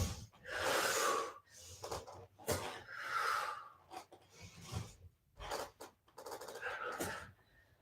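Heavy breathing during a strength and mobility exercise routine: a series of loud, close inhales and exhales with sharp gasps and breathy rushes in an uneven rhythm, and no talking.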